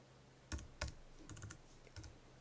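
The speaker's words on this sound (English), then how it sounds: "here I need to type the name" Keys tapped on a Mac computer keyboard while entering a name in Excel, a few distinct clicks followed by a short quicker burst, close and fairly quiet.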